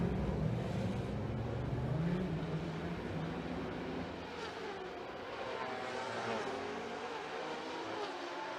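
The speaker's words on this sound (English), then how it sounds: "Full and busy racetrack." Formula 3 race cars lapping the Macau Grand Prix circuit during qualifying, a continuous engine roar with shifting pitch as cars pass, steady and fairly loud throughout.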